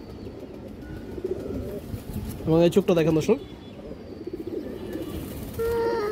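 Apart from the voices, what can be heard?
pigeon cooing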